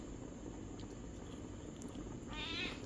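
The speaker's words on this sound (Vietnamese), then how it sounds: "ừ, mèo" A cat meows near the end, a short wavering call rising over steady background noise, with faint household sounds throughout.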